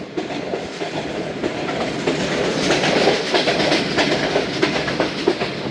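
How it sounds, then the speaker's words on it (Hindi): Train rushing past at speed on a Musapak train journey, a steady loud roar with clickety-clack of wheels over rail joints. "पास के पास से दोस्तों पास हो रही है ट्रेन"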